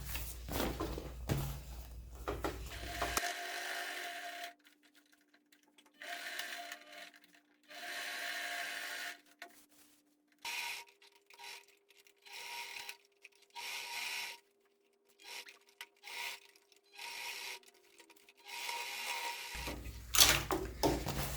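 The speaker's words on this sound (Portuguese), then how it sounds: "E agora é só costurar" A sewing machine stitches a large insulated thermal carry case in repeated short runs, its motor whirring and needle chattering in bursts broken by brief pauses.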